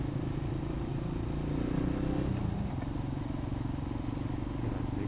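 A cruiser motorcycle rumbles past at a festive Christmas night market in a quad, its steady low engine drone blending with crowd noise and traffic at moderate volume throughout.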